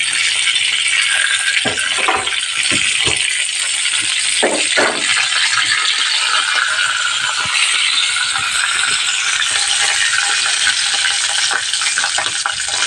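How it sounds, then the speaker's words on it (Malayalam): Mustard seeds, dried red chillies, peppercorns and curry leaves crackle and splutter in hot oil on a stove, a continuous close hiss punctuated by sharp pops and a few clinks, with no voices. "കടുക് വറ്റൽമുളക് കുരുമുളകും കടുകും പിന്നെ കറിവേപ്പിലയും അങ്ങോട്ട് ഇടുകയാണ് ഇത് പൊട്ടിച്ചിട്ട്"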